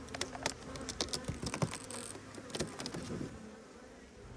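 Honey bees buzz faintly and steadily from an opened beehive in spring, with scattered clicks and light handling noises over the hum.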